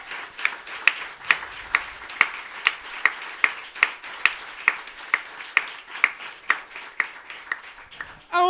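A church congregation claps in a steady, rhythmic beat, about two claps per second, sharp and fairly close, continuing for several seconds before a voice cuts in at the end.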